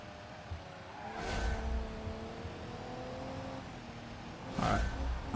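An in-game truck engine in a career-mode trucking simulator revs up under full throttle, a faint droning whine that rises in pitch with two brief louder swells.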